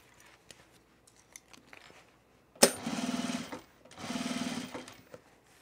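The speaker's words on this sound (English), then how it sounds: "I'm gonna top stitch this down." A sewing machine top stitches a baby bag in two steady whirring runs of about a second each, close and clear after a stretch of faint handling clicks, with no talking.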